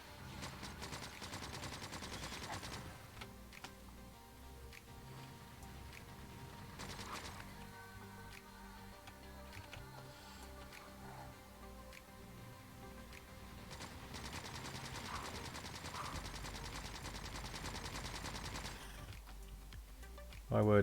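Turret gunfire crackles steadily through a Factorio wave defence battle, rapid shots layered with game music and effects for most of the stretch while a voice talks over it.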